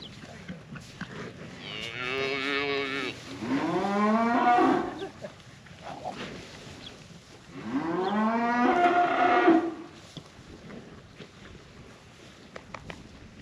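Cows moo close by, two long drawn-out lowing calls separated by a pause, with faint wind and outdoor background noise.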